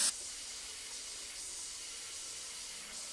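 An airbrush sprays fluorescent paint onto a grim reaper artwork in a steady, soft hiss of air that holds evenly for a few seconds, close and alone, with a brief click at the start and end.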